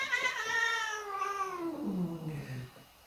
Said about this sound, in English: So about the cats deciding to have an argument.